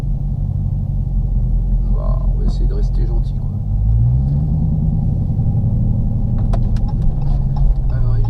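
A Dodge Challenger Hellcat with 717 horsepower to the rear wheels gives a deep, steady engine rumble while driving, swelling slightly partway through, under someone talking close by.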